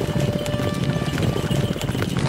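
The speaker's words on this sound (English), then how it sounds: "Kyniska and her horses surged forward with incredible speed and agility." Horses gallop in a chariot race as a storytelling sound effect, a dense, continuous drumming of hooves with steady loud rumbling throughout and no talk over it.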